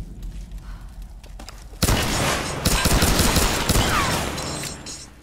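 Rapid bursts of gunfire from the video game Tomb Raider: Definitive Edition erupt loudly after a quieter opening, a dense fusillade of close shots with thumps, continuing for several seconds.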